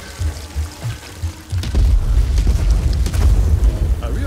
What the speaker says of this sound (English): I'm not even noticing bombs and missiles going off anymore